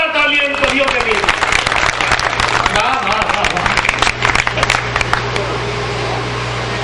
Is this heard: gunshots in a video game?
no